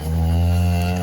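Cattle lowing near calves on a farm in northern Minnesota, one long sustained moo held steady at close range with no talk over it.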